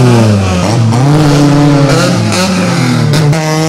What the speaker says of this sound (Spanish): Qué motores, qué ruido, señores, señoras.